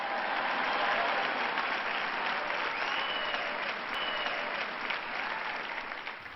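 An audience at a church sermon claps together in a sustained, even burst of applause lasting several seconds, heard at a moderate distance with no talking over it.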